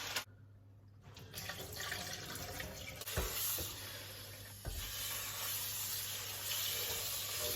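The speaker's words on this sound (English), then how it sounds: "So you want to rinse off all the excess salt" Salted pickled cucumbers rinsed under a running kitchen tap, with a steady, moderately loud rush of water and a couple of brief clunks, no talking.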